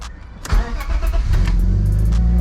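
BMW drift car engine cranking briefly, then catching and starting into a loud, steady rumble close by, with no talk over it.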